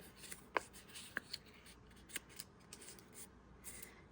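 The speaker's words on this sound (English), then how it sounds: "where I folded it, I'm actually going to cut this piece off." Scissors snipping folded paper circles at a craft table, a few quiet, sharp snips spaced apart with soft rustling of paper between them.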